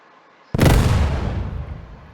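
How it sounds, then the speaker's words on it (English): A mortar shell launches in the video game Warium with a single sudden loud boom after brief quiet, its deep rumble decaying over the following second and a half with no voices. "I'm going to set it to the basic just so you can see how far a mortar shell launches."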